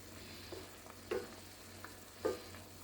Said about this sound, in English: you just keep stirring it and cooking it in the broth